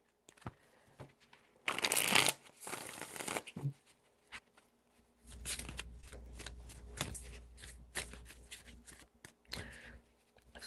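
A deck of tarot cards is shuffled near the microphone in quick riffling bursts, followed by scattered taps and soft card slides and a longer stretch of shuffling, with no voice over it.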